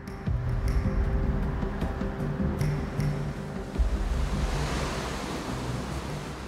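Waves surging and breaking at the foot of sheer sea cliffs on a wild Orkney coastline, a steady loud wash of surf mixed with wind buffeting the microphone, with no voices.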